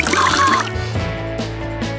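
Water poured out during a food challenge, a gurgling, trickling pour heard loudly up close for about half a second before it fades into a lower-level mix of sounds.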